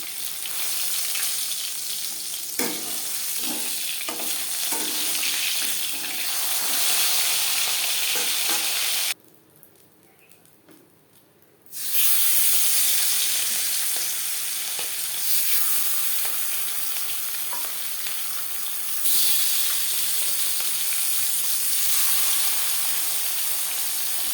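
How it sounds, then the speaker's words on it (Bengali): Fish pieces frying in hot oil in a pan for a Bengali fish curry, a loud continuous sizzle with occasional stirring clatter, briefly dropping quiet midway before resuming. "পরের মাছ একইভাবে ভেজে নেব"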